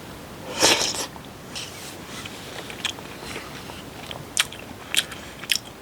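Someone eats cup nurungji, a scorched rice snack softened in hot water that still has hard bits, with close, crisp bites and scattered crunchy chews over a soft background hiss.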